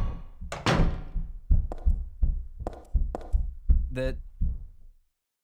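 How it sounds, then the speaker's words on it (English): Heavy thuds and knocks bang out in an irregular series of about eight hits from overhead in the video game Silent Hill 3, loud and booming, with a brief metallic rattle near the end and a single spoken word at the start. "sound of banging is so unreal in my headphones"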